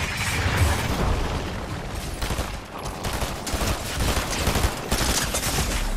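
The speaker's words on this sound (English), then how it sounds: "Oh, that's what all that gunfire is." Dense, continuous video game gunfire with rapid bursts and booming impacts, loud and steady throughout, like a busy firefight.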